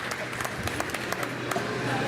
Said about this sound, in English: That's a round of applause there.